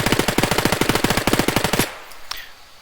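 Automatic weapon fire from the video game Squad with the Middle East Escalation mod comes as a loud, rapid, evenly spaced burst of about twenty shots, then cuts off into a faint ringing tail and a lone distant shot.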